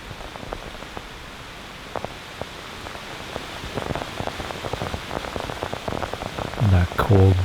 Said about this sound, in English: That cold, damp rain.